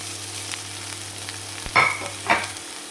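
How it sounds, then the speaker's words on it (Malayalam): Chopped carrot, cabbage, capsicum and beans for fried rice sizzle in a pan under a steady background hum. Two sharper bursts of frying and stirring come close together near the end, with no talking. "ഇനി നമുക്ക് അതിലേക്ക് അരിഞ്ഞു വെച്ചിരിക്കുന്ന vegetable, carrot, cabbage, capsicum, beans അതൊക്കെ ഇട്ട് കൊടുക്കാം"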